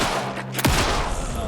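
A bolt weapon in the video game Alan Wake II fires once with a sharp, loud broadband crack that decays into a noisy game ambience, with a steady low hum beforehand.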